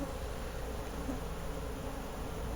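Honey bees buzz continuously around a hive split from a queen breeder's colony in December, a dense, steady drone that fills the whole stretch with no pauses.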